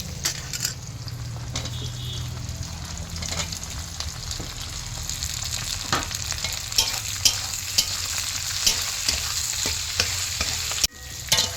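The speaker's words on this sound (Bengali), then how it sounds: "পেঁয়াজটা হালকা করে ভাজা হয়ে গেছে" Onion and capsicum sizzle and fry steadily in a pan for chili chicken, with soft stirring scrapes and occasional louder clicks of a utensil against the pan.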